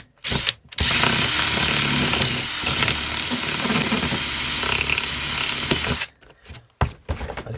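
A handheld power drill bores into a stubborn fitting, running loud and steady for about five seconds before stopping, followed by a few short bursts and clicks.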